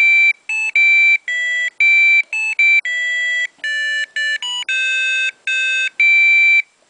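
An Arduino-built alarm clock plays a loud melody of clear, pitched beeps in a steady rhythm, with short gaps between the notes and nothing else audible.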